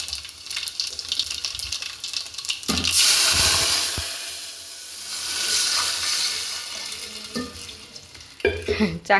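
Mustard seeds and cumin crackling in very hot oil for a tempering, a dense sizzling hiss with sharp pops that swells, fades and rises again. Brief stirring clatter comes near the end.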